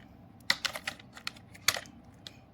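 Someone types an Excel SUMIF formula on a computer keyboard: a handful of quick, close, crisp key clicks in two short clusters, with quiet gaps between them.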